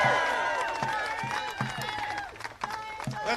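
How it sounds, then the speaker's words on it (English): A rally crowd applauds and cheers with steady dense clapping that fades slightly, while a voice speaks over the noise. "Let's give him a round of applause."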